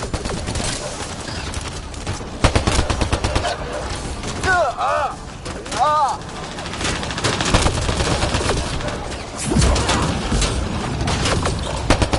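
Gunfire in the video game Mass Effect Andromeda, rapid automatic bursts and booming shots rattling through a chaotic battle, loud and continuous, with voices calling out amid the shooting.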